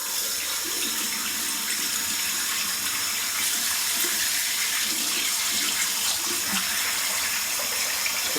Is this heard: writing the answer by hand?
no